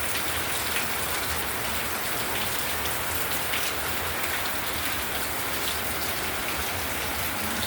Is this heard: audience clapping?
no